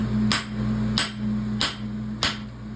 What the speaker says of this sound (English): Grab your rounding hammer and your clipping hammer.